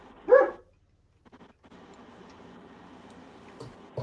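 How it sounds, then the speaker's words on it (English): A single dog bark, fairly close and loud, followed by quiet room sound with faint scattered noises. "Where's that dog at?"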